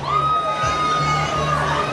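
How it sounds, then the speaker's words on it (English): Audience of women screaming and cheering at an eating contest, a dense crowd of shrill shouts and whoops, with a voice speaking over it. "in the audience are the women, and the women are sort of screaming for their men to eat more"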